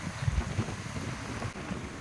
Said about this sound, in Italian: c'è un fortissimo vento.